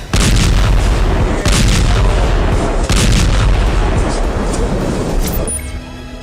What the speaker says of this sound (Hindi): ये वीडियो इंडोनेशियाई अस्पताल का है, जहां आज फिर इजराइल एयरफोर्स ने बमबारी की।